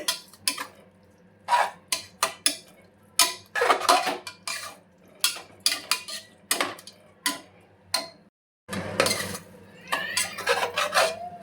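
A spoon scrapes and taps against a pan while ingredients for egg pulao are mixed, giving a steady series of sharp metallic clinks with a brief pause, close by and with no talking.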